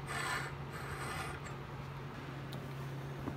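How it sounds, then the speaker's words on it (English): A coarse mill bastard hand file rasps along a hatchet edge, reprofiling it with a faint, continuous scraping sound over a steady low hum. "once I've finished reprofiling the edge with this coarse mill bastard file"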